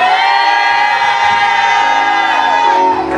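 A church congregation at a Christmas Eve service roars a thunderous Amen together, a loud, sustained wall of voices and whoops that fills the room and fades at the end.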